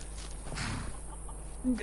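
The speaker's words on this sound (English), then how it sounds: "you're a chicken, you don't need a name" A chicken in the video game Skyrim gives soft, scattered clucks amid faint in-game ambience and light footsteps, with one brief louder cluck near the end.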